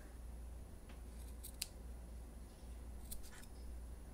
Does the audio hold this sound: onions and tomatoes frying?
no